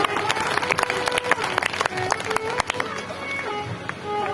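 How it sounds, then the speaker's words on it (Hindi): An audience claps at a Bhagavad Gita religious gathering, a dense burst of hand claps that stays steady for a few seconds before thinning out, with voices mixed in. "एक बार जोरदार ताली बजा दोनों के लिए।"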